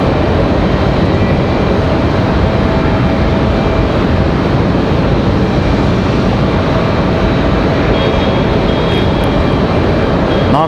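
An American Airlines Boeing 737 jet at Raleigh-Durham airport makes a loud, continuous engine rumble and hiss that stays level for the whole stretch, with a faint tonal whine near the end.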